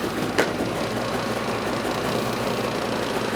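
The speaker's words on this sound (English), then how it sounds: "right now, I'm just gonna warm it up. You're gonna get to hear it. It's very quiet." A 2016 Polaris RMK 800 AXYS snowmobile engine warms up at a steady idle, a continuous broadband drone close by with one brief higher-pitched blip near the start, and no talking.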